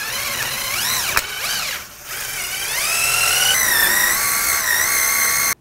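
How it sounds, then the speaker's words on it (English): Wire brush scrubbing rear brake parts on a 1998-2010 Volkswagen Beetle, a close, steady rasping whir with shifting tones that dips briefly in the middle, then runs loud and continuous until it stops abruptly. "Now we're just gonna clean this up with a wire brush."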